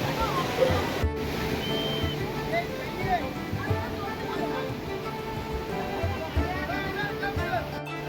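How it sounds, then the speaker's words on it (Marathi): Heavy water pours at the base of Kalu waterfall in misty jungle, a dense, steady roar close by with indistinct voices mixed in. "आणि आम्ही फायनली पोहोचलो आहोत काळ वॉटरफॉलच्या पायथ्याशी"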